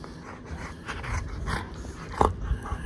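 A pet husky makes playful dog noises during a biting game, with soft pants, whimpers and low growly grumbles rising to a louder yip near the end, close by.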